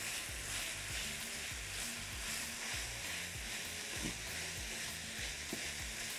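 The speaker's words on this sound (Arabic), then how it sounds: "هبص كده افكك اللحمه المفرومه كده" Minced meat fries in a pan, a steady close sizzle with occasional scraping and stirring clicks as it is broken up, continuous and fairly quiet.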